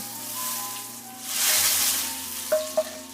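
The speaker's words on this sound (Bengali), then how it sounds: "আমি এটা ডালের মধ্যে বাগারটা দিয়ে দিচ্ছি।" Fried garlic tempering poured into simmering masoor dal gives a loud, broad sizzle that swells in the middle, with two sharp clinks of a utensil near the end; no one speaks.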